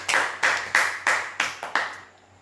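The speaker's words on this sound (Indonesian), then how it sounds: "Kasih tepuk tangan dulu buat Tuhan kita." A church congregation claps in unison during a sermon: six sharp, evenly spaced claps in a quick steady rhythm, loud and close, then a brief fading tail into quiet.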